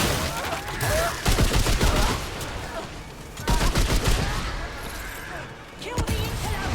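Rapid bursts of gunfire from the video game Remnant 2, loud and sustained in dense volleys with short gaps, layered with game noise.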